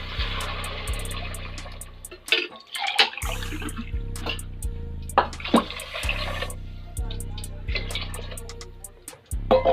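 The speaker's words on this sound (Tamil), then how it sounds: "இப்போ நம்ம தண்ணி ஊற்றிடலாம்" Water is poured into a pot holding half a kilo of basmati rice during lunch cooking, splashing in bursts alongside a repeating humming tone and a voice talking.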